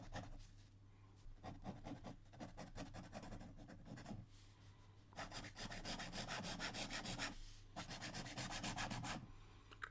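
An extra fine, ultra flex, Jowo-compatible Fountain Pen Revolution steel nib scratching across paper while writing; a close, continuous rasping scratch in rhythmic strokes with a short break partway through.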